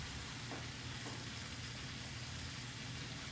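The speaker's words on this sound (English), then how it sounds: "Let that kind of saute around there for a minute." Vegetables sauté in a hot pan after a splash of lemon juice, giving a steady, even sizzle that runs unbroken throughout with a low rumbling hum beneath it.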